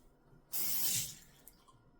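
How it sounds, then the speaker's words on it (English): Tap water splashes briefly onto hands at a bathroom sink during a nighttime skincare routine: a loud, close hiss lasting under a second, then quiet. "And then I'm gonna add some water to my hands."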